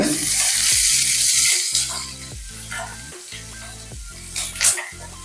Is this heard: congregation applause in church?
no